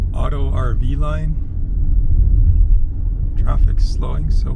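Slowing road traffic near the Nogales Mexico-USA border crossing, heard from inside an RV as a low continuous rumble, with people talking over it at the start and end.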